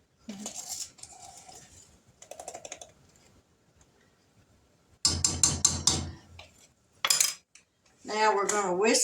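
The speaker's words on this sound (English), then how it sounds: "Now we're going to whisk this together." A whisk clatters and scrapes against a bowl while water, granulated sugar and cream of tartar are mixed, coming in short rattling bursts separated by pauses, with a voice speaking near the end.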